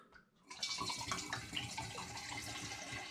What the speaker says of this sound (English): pour it back into the original demijohn